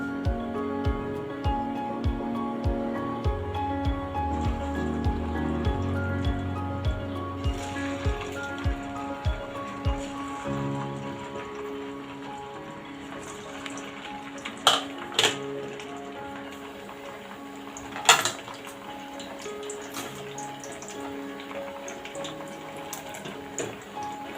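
Upvasacha medu vadas lowered one by one into hot oil on a gas flame, each landing with a short splash followed by steady bubbling and sizzling, plus a few sharp clinks of utensils.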